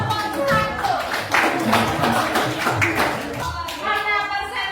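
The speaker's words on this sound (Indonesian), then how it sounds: "Kasih aplaus dulu untuk kelompok 1." Children in a classroom coding lesson applaud a group, a dense burst of clapping mixed with young voices and chatter.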